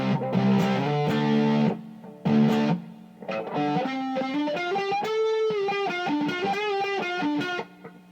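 An electric guitar plays chords and then a run of notes through a 1982 Peavey Bandit amp with the saturation turned all the way up, giving a thick, heavily distorted tone that is loud, close and free of talking.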